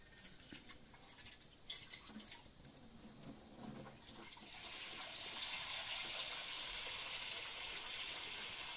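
Water poured into a black pot of potatoes over a village fireplace fire, a steady broad rushing pour that swells in after some quieter rustling and keeps going to the end.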